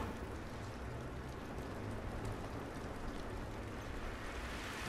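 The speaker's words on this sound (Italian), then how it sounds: "Questa pioggia non va bene." Steady, dense rain in The Last of Us video game hisses continuously and evenly throughout, with a soft low rumble underneath and no voices.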